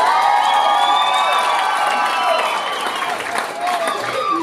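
Loud crowd at a charity benefit show cheering, whooping and clapping together, with high shouts and children's voices riding over steady applause that eases slightly toward the end.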